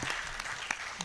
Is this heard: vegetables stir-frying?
no